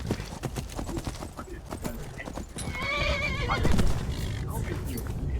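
Hooves clip-clop in a quick rhythm, then a horse in the video game Skyrim lets out a loud, wavering neigh, with a voice speaking over parts of it.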